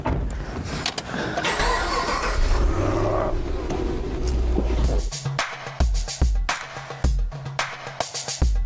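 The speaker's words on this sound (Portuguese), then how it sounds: "esse aqui é não é qualquer Camaro não, é o Camaro V8" A Chevrolet Camaro V8, the Transformers edition, starts up close by with a loud, rough burst of engine noise that settles into an uneven, pulsing idle with short revs.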